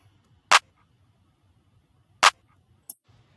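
A slap clap in a vibey beat: two sharp, bright claps well apart and a softer short one after, over a faint low rhythmic thump.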